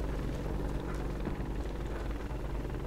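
A helicopter in the video game Warface gives off a continuous, dense rotor and engine drone, loud and unbroken from start to finish.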